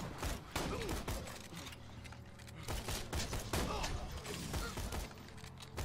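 Shotgun fire in the Borderlands 2 video game comes as dense, continuous bursts of blasts and impacts, loud and busy throughout with layered game effects and no clear pauses.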